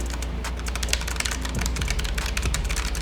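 Rapid clicking of keys on a Keychron K1 wireless mechanical keyboard, a steady stream of close, crisp taps with no voices.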